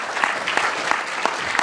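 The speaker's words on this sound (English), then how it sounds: "Let's give them a round of applause." Audience applause at a dinner on a horse ranch, dense clapping from a crowd with a few sharper bursts standing out, steady and fairly close throughout.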